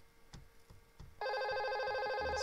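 A desk phone on a Cisco voice system starts ringing partway through, a loud, steady electronic ring tone that stays on after quieter faint tapping at the start.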